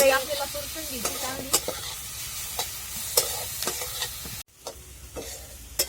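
Ambadi leaf greens with onion are stir-fried in a pan, a close, steady sizzle punctuated by frequent clinks and scrapes of a spatula, which briefly drops out before the stirring resumes.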